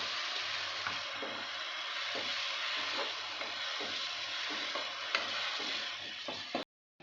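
A mix of black cumin, radhuni, garlic and dried chilli powder sizzles steadily in hot oil in a pan for a fish curry, with faint ticks and stirring scrapes, then the sound cuts off abruptly.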